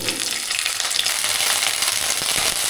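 Cauliflower stirs and fries in hot oil with a steady, loud broadband sizzle and crackle that fills the whole stretch without a break, and no voices are present.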